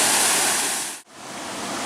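Devil's Kettle waterfall on the Superior Hiking Trail, a loud broadband rush of falling water close by, briefly cut to near silence midway before the roar returns.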